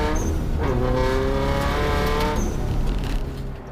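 Subaru Impreza rally car at the Rally of the Tall Pines, heard from inside during a heavy crash: a loud, steady engine roar with harmonic whine and rough scraping, easing off toward the end.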